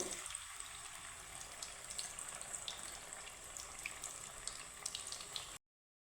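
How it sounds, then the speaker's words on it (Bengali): Poha (flattened rice) snacks frying in hot oil in a pan: a quiet, steady sizzle with scattered light crackles, no voices, cutting off into silence near the end. "তেলটা গরম হয়ে গেছে এখন আমি একে একে দিয়ে দিব তো প্রথমে আমি তিনটা করে ভাজবো"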